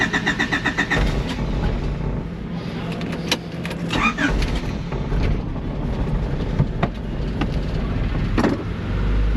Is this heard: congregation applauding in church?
no